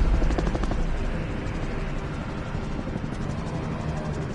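Helicopter in the Warzone Resurgence video game, a loud, steady rotor chop with a dense whirring drone heard close up from inside, unbroken throughout.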